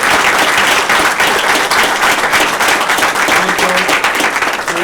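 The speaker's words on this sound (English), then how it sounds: "Big round of applause." An audience at a Stony Brook University council meeting gives a big round of applause, steady dense clapping filling the whole room throughout, loud and sustained with no talk over it.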